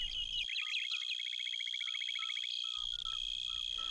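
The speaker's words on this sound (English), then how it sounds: "It is the kingdom of small bush crickets that shine like emeralds," Small flightless bush crickets, emerald-green katydids, chirp in a rapid, steady train of pulses, close and clear, over a constant high insect drone that continues before and after.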